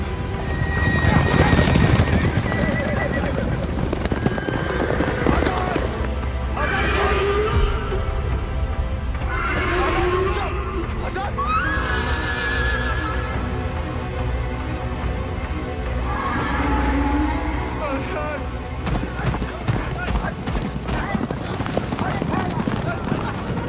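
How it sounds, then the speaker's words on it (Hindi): A horse neighs and whinnies repeatedly in a Bollywood film scene, with hoofbeats clopping, shouting voices over it, and a few sharp bursts like gunfire in the mix. "हमारे घोड़े को मार दिया। कोई बचाओ हमारे घोड़े को।"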